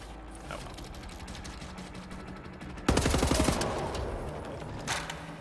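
In the video game Wolfenstein: The New Order, a stretch of mechanical clicking and rattling gives way to a sudden loud burst of shotgun fire, followed by a decaying roar and one more thump.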